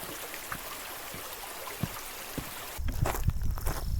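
A granite slab bridge on Dartmoor spans a river whose soft, steady flow murmurs quietly, with a few faint knocks, then louder rustling and footsteps near the end.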